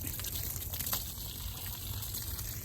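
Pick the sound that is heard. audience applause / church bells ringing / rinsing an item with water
rinsing an item with water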